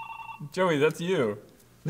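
A mobile phone ringtone plays in short repeated bursts under people talking close by, the voices overlapping the ringing.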